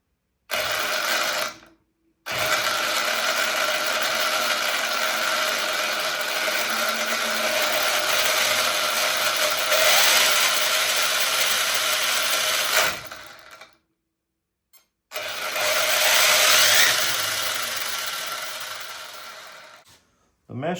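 An Arrma Limitless GT RC car fitted with a Castle 1721 2400kv motor whirs steadily at close range in two long runs of about eleven and five seconds, broken by short silent pauses, with rising pitch and faint mechanical whine.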